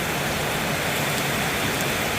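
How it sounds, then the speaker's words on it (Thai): Heavy rain pours down steadily in a rural farming area, a dense, loud, unbroken hiss with no talk. "สายฝนมาแบบ อย่างแรงนะคะ"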